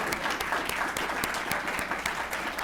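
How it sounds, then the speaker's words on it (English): Steady applause from a crowd at a municipal Martin Luther King Day ceremony, dense clapping throughout with a few sharper claps standing out, fairly close and continuous. "Give yourselves a round of applause for remembering this day."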